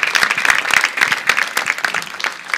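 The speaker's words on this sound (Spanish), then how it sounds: "Un aplauso para Jesús, por favor." A church congregation claps and applauds energetically, a dense burst of many hands close by that continues steadily for a couple of seconds.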